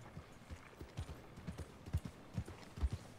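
Horse hooves clip-clop at a walk in the Red Dead Redemption 2 video game, soft, even, fairly quiet thuds repeating about twice a second.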